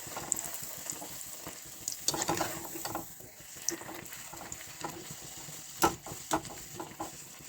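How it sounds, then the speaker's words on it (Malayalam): Poori frying in hot oil, a soft continuous bubbling sizzle with small clicks and occasional sharper taps from utensils, quiet and close, no voices. "ഇനി തിളച്ച എണ്ണയിലേക്ക് പൂരി ഇടുന്നു."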